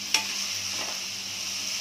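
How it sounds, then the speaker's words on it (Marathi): Tomato chutney with cheese flavour being stirred and sautéed in a pan over high heat, a spoon scraping once near the start, then a steady soft sizzle running throughout. "पाच मिनिट याला परतायला लागते."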